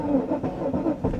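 A big V8 in a Mercedes coupe cranking on a weak battery just under 12 volts, the starter turning over slowly in a labored, uneven rhythm of about three sluggish pulses, close by.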